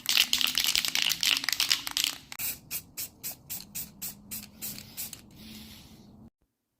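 A spray paint can is shaken hard, the mixing ball rattling in a fast rhythm of about a dozen sharp clacks, then a short hiss of spray before it stops, close and loud.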